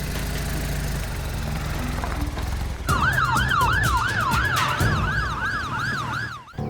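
An ambulance siren starts up close after a low idling engine rumble, wailing in a fast, repeating rise-and-fall pattern that stays loud until it cuts off near the end.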